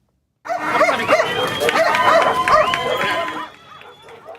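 Many dogs barking and yipping together at a more-than-2-mile fun run with their owners in Caracas, Venezuela, a busy layered chorus with some voices underneath, fading toward the end.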